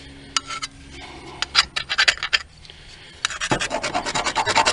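A putty knife scrapes an old thermostat gasket off the housing of an '88 S10's 2.5-litre Iron Duke engine, with close, sharp strokes speeding up into a quick rasping rhythm.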